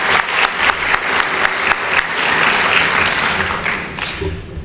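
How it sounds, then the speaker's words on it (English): Audience applause for staff honored for 25 years of service at a school staff recognition event, a steady loud wash of many hands clapping with a few sharper claps standing out, fading slightly toward the end. "May we have another round of applause for our honorees for 25 years of service."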